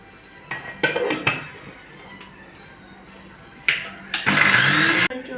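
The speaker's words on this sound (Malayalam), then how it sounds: "ഇനി നമുക്ക് ഒന്നുകൂടി അടിച്ചെടുക്കാം കേട്ടോ" A kitchen blender whips homemade mayonnaise, with a few short pulses and clinks early on, then a sustained loud whirring run near the end that cuts off abruptly.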